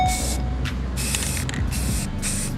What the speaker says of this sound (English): Now we're going to spray it with some paint.